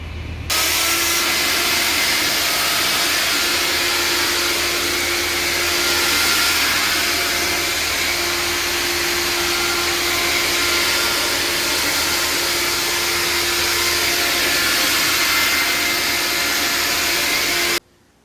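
An attic disinfecting fogger machine running continuously, a loud, steady blowing whoosh with a sustained hum, switching on abruptly and cutting off at the end, with no voices.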